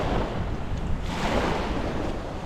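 Strong wind buffets the microphone in steady, roaring gusts at Cultus Lake, British Columbia, with surf-like rushing noise filling the background throughout.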